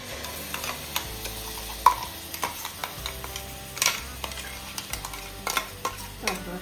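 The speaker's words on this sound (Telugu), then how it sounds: "ఆయిల్ వేడెక్కేసింది. ఇప్పుడు మనం ప్రిపేర్ చేసుకున్న పేస్ట్ని అందులో వేసేస్తున్నాను." Prepared spice paste for a Konaseema-style crab curry sizzles in hot oil, a steady close hiss broken by frequent sharp clicks and scrapes of a ladle against the pan.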